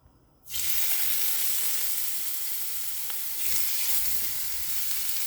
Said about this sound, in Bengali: মাছগুলো হালকা ভেজে নেব